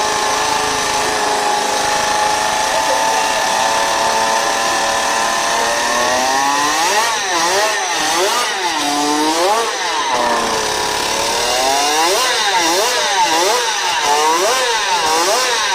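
High-revving motorcycle engine screaming toward 20,000 RPM, a loud, close whine that repeatedly swoops up and down in pitch with sharp throttle blips, no talking.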